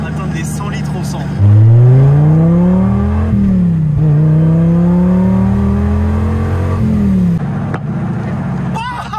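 A Dodge Viper RT/10's big engine revs up and holds a loud, rising drone, then drops off with a sharp crackle near the end as it lifts off throttle.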